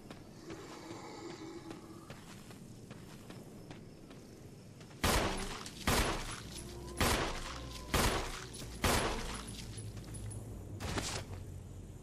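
Gunfire in the video game Resident Evil 1 HD, six loud booming shots spaced roughly a second apart over low ambient game noise, with a final shot after a short pause.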